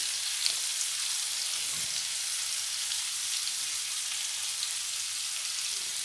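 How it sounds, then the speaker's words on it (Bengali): Potatoes frying in a pan with salt and turmeric for a moong dal dish, giving a steady, dense hiss of sizzling oil that carries on evenly throughout with no talking. "দিয়ে আলুগুলো খুব ভালোভাবে লাল করে ভেজে নেব"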